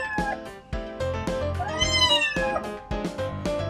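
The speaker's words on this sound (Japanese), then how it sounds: "この市場では初めての猫です。" A cat at Betong market in southern Thailand meows close up, a series of five or six loud, drawn-out cries in quick succession, one rising into a longer wail, with no voices.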